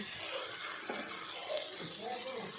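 Water is added to soaked toor dal cooking over a low flame, a continuous soft splashing pour with faint bubbling underneath.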